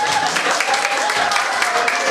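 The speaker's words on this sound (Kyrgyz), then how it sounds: "Эжекебизге кол чаап коюңуздар." Audience applause at a Kyrgyz community song gathering in Moscow, a steady loud wash of many hands clapping throughout the short stretch with no pauses.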